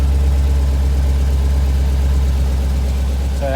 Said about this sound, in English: Hemi Challenger sound. The 392 Scat pack